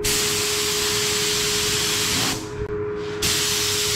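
A spray gun hisses continuously as it lays a coat of candy red paint over a frame, briefly thinning mid-pass before resuming at full strength, close and loud with no voices.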